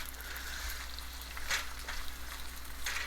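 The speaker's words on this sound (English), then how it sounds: "So till the ginger and garlic is cooked, like the smell comes up." Ginger and garlic fry in hot oil with a continuous, close sizzle under a low steady hum, and the crackle swells in a few brief bursts.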